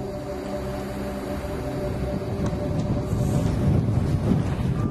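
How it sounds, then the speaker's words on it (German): Strong wind roaring across an exposed mountain ridge on the climb to Kriváň as an August afternoon storm front moves in, a steady loud rumbling gust that swells slightly louder toward the end, with no voices. "Der Wind schiebt erst die Wolken und dann den Regen quer über den Weg"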